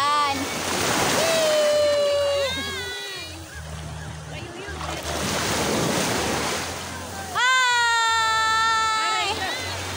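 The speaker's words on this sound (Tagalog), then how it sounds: "Nananapak yung alon" Ocean waves wash and slap against the shore in broad surging rushes with wind buffeting the microphone, while people's voices and high calls ring out over the surf.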